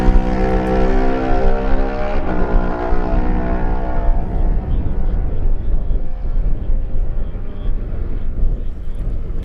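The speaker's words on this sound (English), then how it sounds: "Two Kawasaki's hurrying through, Barry Sheehan's number 46 and Jack Fowler's number 55." Two Kawasaki racing motorcycles at the Manx Grand Prix Lightweight race scream past one after the other, high revving harmonic engine notes shifting in pitch as they pass close, then fading into a rougher rumble.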